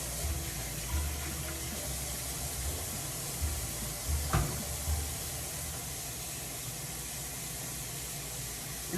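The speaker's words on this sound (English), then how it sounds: "So here I am rinsing the collards that were in those 2 cans that I opened." Tap water runs steadily over canned collard greens being rinsed in a kitchen sink for a Southern dinner, a continuous broadband splashing hiss with a brief louder spatter midway, no talking.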